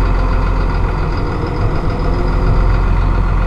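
A Massey Ferguson Dyna-VT tractor engine runs steadily and loud, a dense low diesel rumble holding close and even throughout as the tractor speeds up.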